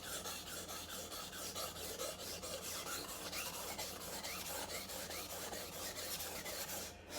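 A dull knife is drawn across a sharpening stone in steady, even rasping strokes, close and continuous with a regular rhythm, ending in a brief sharper scrape.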